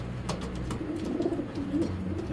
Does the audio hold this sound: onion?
no